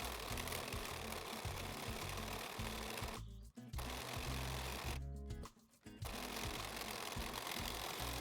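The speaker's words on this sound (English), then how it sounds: "Now we're ready to sew the bottom two pieces together." A sewing machine stitches fabric scrap pieces together in a loud, continuous rapid mechanical whir, stopping briefly twice before starting again.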